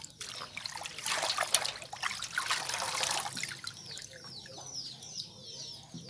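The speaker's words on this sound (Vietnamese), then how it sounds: "Các bạn rửa cho nhiều nước đó nha, cho nó thiệt là sạch." Mustard greens being washed under plenty of running water, a soft splashing trickle that swells and then eases, while birds chirp faintly in the background.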